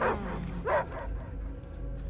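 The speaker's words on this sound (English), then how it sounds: "I hear only barking." Dogs barking in the Guardians of the Galaxy video game: two short, loud bark bursts close by, early and midway, over a low steady game-background hum.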